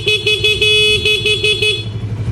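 Aftermarket Pia loud horn, installed as a dual horn alongside the stock horn on a Raider 150 FI motorcycle, sounds in a series of loud, close, short blasts with a steady pulsing rhythm.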